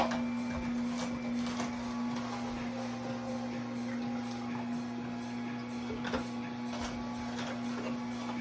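An electric juicer processes cucumber, celery, pineapple and ginger, giving a steady mechanical hum with a strong motor tone and irregular clicks and taps as pieces are fed in, close and continuous.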